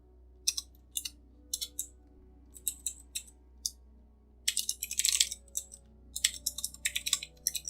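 Quiet keystrokes on a computer keyboard while someone enters code, arriving in short irregular bursts with brief pauses, then a faster, denser run of typing near the end; close and fairly soft.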